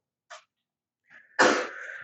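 A person sneezes in a calculus classroom, a short inhale followed by one sharp, loud burst that trails off, heard close with no talking over it.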